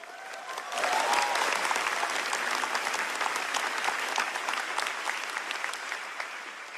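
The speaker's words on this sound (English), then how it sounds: "Everybody give a round of applause to my mom and dad." An audience breaks into applause for the speaker's parents at a homecoming event, clapping swelling in after a quiet second and holding as a steady, dense wash of many hands.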